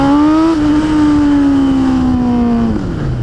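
A warm Yamaha Fazer 600 motorcycle engine revs close by, its pitch climbing sharply, holding high, then sliding down as the throttle eases off.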